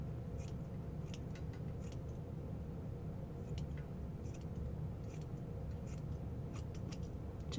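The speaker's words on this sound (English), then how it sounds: "right off there as soon as I find my scissors" Scissors snip several times in quick, irregular bursts over a steady low background hum, faint but distinct, with no voices.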